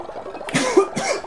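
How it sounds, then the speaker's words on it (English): A video game character coughs in Cult of the Lamb, two close, sharp coughs in quick succession, loud and alone. "Oh, this cough."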